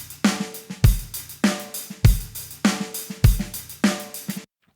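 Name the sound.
basic rock drum pattern, Logic Pro Session Player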